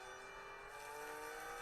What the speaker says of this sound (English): that engine noise, definitely 6-cylinder